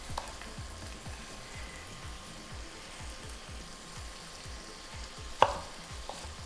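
Bacon frying in a pan, a quiet, steady sizzle with soft crackles and one sharp click near the end.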